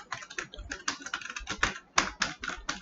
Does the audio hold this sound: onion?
no